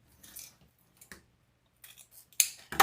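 Scissors snip through deco mesh ribbon in a few quiet, sparse cuts and rustles, ending in a louder crisp snip and crinkle of the mesh, close by in an otherwise still room.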